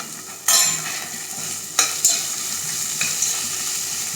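Ginger and tamarind sautéing in a hot pan, a continuous close sizzle punctuated by a few sharp stirring scrapes of a spoon against the metal, with no voices.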